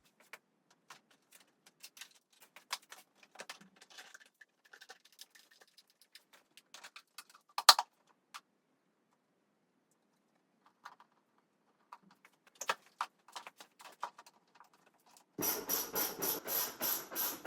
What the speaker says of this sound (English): I'm going to go ahead and put all the plastics back on.